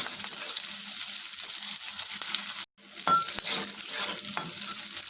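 Onions frying in a pan over a high flame, with a steady close sizzle and occasional stirring scrapes, cut by a brief silent gap midway.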